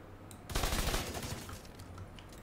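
Automatic gunfire from the video game Tom Clancy's The Division 2 erupts as a loud, sustained burst of rapid shots and then trails off into lingering echo.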